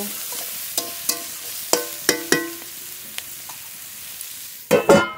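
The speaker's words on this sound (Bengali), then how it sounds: "চেরা কাঁচা লঙ্কা একসঙ্গে খুব ভালো করে ভেজে নেব" Slit green chillies and turmeric frying in a pan, a few sharp spoon taps and scrapes over a quiet sizzle, ending in a louder burst of frying noise.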